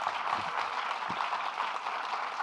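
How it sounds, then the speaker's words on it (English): A round of applause for a speaker at a fireside chat event, a modest, even patter of clapping from a crowd, fairly distant and sustained throughout. "let's give her a round of applause"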